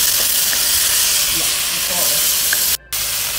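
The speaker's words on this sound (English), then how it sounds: "Fry a couple of minutes, put in soy sauce." Meat frying with soy sauce in a wok for Chinese fried rice, a steady broad hiss of sizzling that runs throughout with a brief cutout near the end, while a voice speaks briefly over it.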